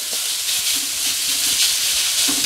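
Chicken pieces searing in a hot wok for fried rice, giving a steady, loud broadband sizzle and hiss throughout with no talk.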